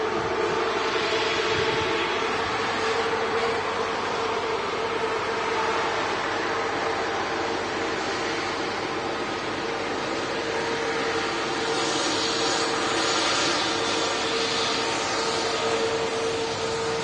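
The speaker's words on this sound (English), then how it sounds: "We're going to capture this Virgin, it's beautiful Virgin 350 taxiing back to gate here." Virgin Airbus A350 jet taxiing back to the gate at an airport, a steady distant engine whine and low rumble with wind noise, continuous and fairly loud, no talking.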